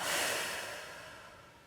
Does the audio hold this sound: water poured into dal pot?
no